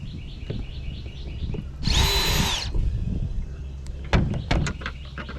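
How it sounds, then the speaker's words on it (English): A power drill whirs in one short, high-pitched burst of under a second while drilling a hole in a fishing crate for an Old Town Topwater PDL 120 kayak, followed by a few sharp clicks and knocks against steady background hum. "we're just going to take our drill and drill a hole"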